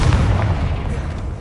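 A Confringo fire spell blasting in Hogwarts Legacy, a loud, deep rumbling burst that fills the moment with sustained low boom and crackle.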